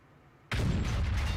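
A single heavy tank-gun shot from an E-100 slamming into an IS-7 in World of Tanks, a sudden loud blast after near silence followed by a sustained rumbling roar.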